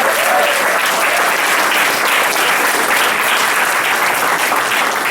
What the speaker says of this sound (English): can we get one more round of applause for